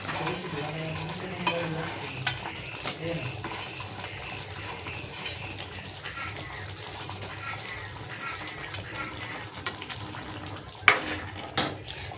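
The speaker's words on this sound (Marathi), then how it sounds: "मसाल्यामध्ये फ्राय होऊन द्यायचे, परतून द्यायचे आणि मग पनीर घालायचं." Paneer fries in masala in a pan for a homemade paneer curry, giving a steady sizzle with scraping stir strokes and occasional clinks of the spoon against the pan, close and without talking.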